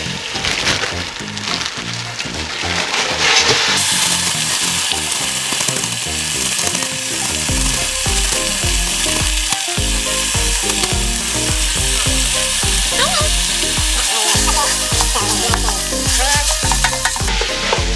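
Ground pork sizzles loudly and steadily in a hot pan for a spicy Chinese lobster sauce, with continuous frying crackle and repeated scraping stirs throughout, close and alone.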